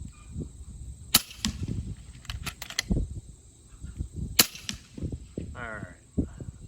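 An FX Impact air rifle fires sharp cracking shots at long range, two distinct reports spaced a few seconds apart over a quiet outdoor background with faint clicks and rustles.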